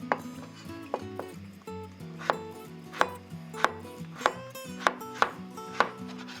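A knife slices cucumber on a cutting board in a steady rhythm of about ten crisp, evenly spaced chops over background music.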